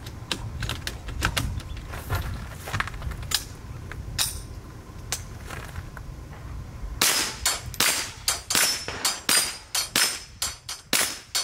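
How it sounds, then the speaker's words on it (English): .22 AR22 rifle fired at steel dropper targets, with sparse soft pops early on, then a rapid string of about ten sharp shots in the last few seconds; no talking. "We'll shoot at these 6 droppers, and then we'll go over there to the dueling plate"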